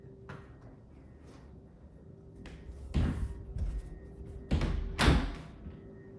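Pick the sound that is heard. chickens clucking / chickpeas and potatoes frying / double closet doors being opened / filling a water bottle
double closet doors being opened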